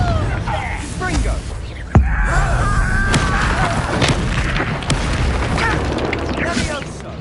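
Confringo fire spell blasts in the video game Hogwarts Legacy: a sharp booming impact stands out near the start, with a smaller burst later over busy game effects and a voice.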